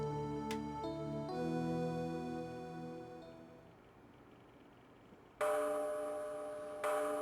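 A clock chimes with deep gong-like strikes in the Ace Attorney 3 video game. Several ringing tones decay slowly, then two brighter, louder strikes come near the end, with no speech.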